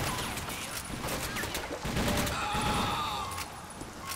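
Enemy gunfire pours from a window in the shooter game TimeShift, a rapid, dense fusillade of shots that runs throughout at moderate loudness, with occasional sharper cracks.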